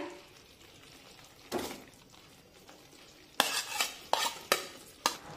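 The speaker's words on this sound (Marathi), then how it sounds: "आणि हे केळ छानपैकी परतून घेऊया।" Small banana pieces being sautéed in roasting semolina for sheera prasad, a faint sizzle and soft stirring followed by several sharp spoon scrapes and knocks against the pan.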